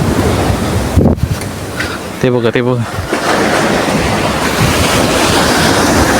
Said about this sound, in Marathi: लाटा बघा किती फुटत आहेत मोठे मोठे